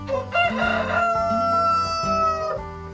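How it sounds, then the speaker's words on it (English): A loud, drawn-out rooster crow rings out close by, a rich harmonic call that rises and falls over a few seconds, with clucking around it. "Rusty would wake up before the sun rose and sing a cheerful song Cock a doodle doo"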